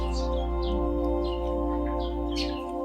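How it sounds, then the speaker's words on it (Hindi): Outside Kyichu Lhakhang temple, birds give short, repeated high chirps, some near and some farther off, over a constant low humming background. "पंछियों की आवाज, कौवे की भी आवाज जी भर के यहाँ सुनने में आ रहा है।"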